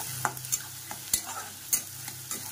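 Poha (flattened rice) being stirred and dry-roasted in a pan at home, with a steady run of scraping stirs and sharp spoon taps against the pan over a low sizzle, close and fairly quiet.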